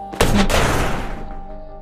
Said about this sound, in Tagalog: Sinipa ang pinto.